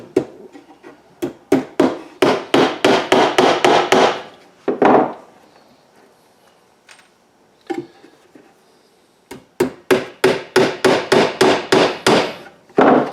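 Sharp hammer strikes driving Romex electrical wire staples into wood for a bluebird house, in fast bursts of about ten blows each, a short pause between groups, close and loud with no talking.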